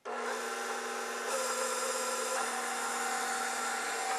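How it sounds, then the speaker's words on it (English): A stand mixer fitted with a dough hook, set to speed 3, whirs steadily while kneading bread dough of flour; a constant motor drone that grows slightly louder partway through, with no talk. "And then put your blender on a 3."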